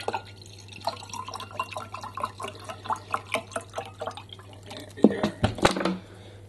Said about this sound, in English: In goes the bottled water.